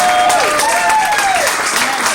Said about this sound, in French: Les acclamations très fortes pour nos mamans.